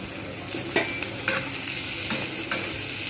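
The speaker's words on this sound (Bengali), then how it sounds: "আলুগুলো আমি কিন্তু খুব একদম ভালোভাবে ভেজে নেবো" Potato pieces fry with browned onions in a pan, a steady close sizzle broken by several scraping stirs of a spatula at regular intervals.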